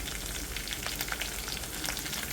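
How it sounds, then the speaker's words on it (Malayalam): Mustard seeds, sliced shallots, dried chilies and curry leaves frying in hot oil for a Kerala green pea and potato curry, a dense, even crackling sizzle close by with scattered pops. "കടുക് പൊട്ടി വരുമ്പോൾ ഇതിലേക്ക് അഞ്ചാറ് ചുവന്നുള്ളി വട്ടത്തിലരിഞ്ഞത് ചേർക്കാം ഉണക്കമുളക് കുറച്ച് കറിവേപ്പില ചേർക്കാം"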